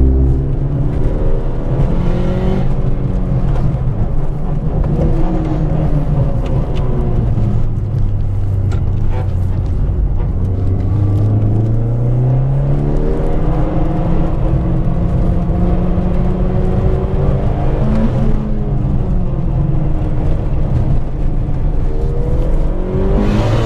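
Volkswagen Golf GTI tuned to 600 hp with an external wastegate and all-wheel drive, engine loud and close, revving continuously with rising and falling pitch sweeps throughout, no talk.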